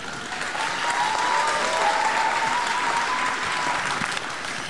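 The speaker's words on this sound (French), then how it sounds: "Et puis ça s'applaudit très très fort." An audience at a stage show for college students applauds loudly, a thick, sustained roar of clapping that holds steady for several seconds, with a faint tone running underneath.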